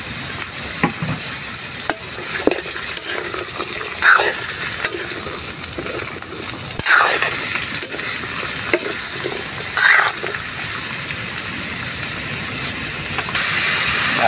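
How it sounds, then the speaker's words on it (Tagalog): Green papaya sautéed in a pan with garlic and onion for papaya in oyster sauce, giving a steady close sizzle with intermittent scraping stirs of a utensil against the pan throughout, no talking. "Habang ginigisa po natin yung ating papaya"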